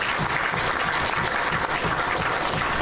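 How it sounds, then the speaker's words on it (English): A studio audience on a Grenada morning television show gives a round of applause, dense and close clapping that holds steadily throughout. "I want to give those who brought in the firearm a round of applause."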